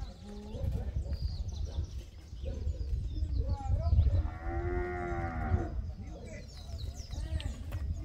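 Heifer cattle at a livestock fair, one giving a drawn-out moo of a couple of seconds amid constant crowd chatter and bustle, with people talking close by.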